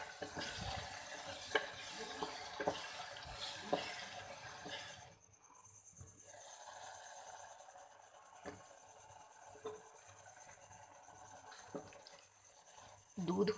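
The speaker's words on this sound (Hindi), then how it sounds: "दूध खुश्क होने के करीब है तो अब हम इसे मुसलसल हिलाते रहेंगे।" A spoon stirs milk and coconut steadily in a pan as the milk cooks down nearly dry, giving soft scraping swishes with faint sizzling. The sound is quiet and close, with talking at times.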